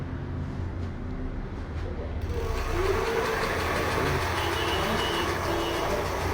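A RIDE electric bicycle switched on, its motor whirring with a steady mechanical hum that grows fuller and louder partway through, running continuously without voices.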